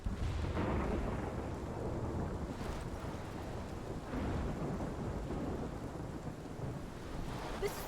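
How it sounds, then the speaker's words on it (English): Thunderstorm with steady heavy rain in the video game Life is Strange: a dense, continuous roar of rainfall with low rumbling thunder swelling through it, loud and unbroken, with no voices. "This is my storm."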